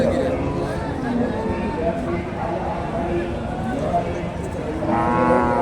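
A Friesian cow moos at a Bangladeshi cattle market, a few low drawn-out calls under a steady murmur of market chatter and talk, with a louder call near the end.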